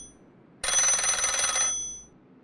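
A telephone bell rings in one sustained burst of about a second, loud and close against a quiet room, then fades out, played as a sound effect in a radio drama.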